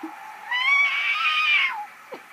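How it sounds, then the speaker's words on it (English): A cat gives one long, drawn-out meow, close and clear, rising and then trailing off, followed by a couple of faint small noises. "You're a very pretty cat."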